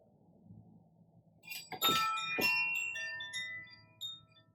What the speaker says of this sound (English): The chime is a significance of mindfulness.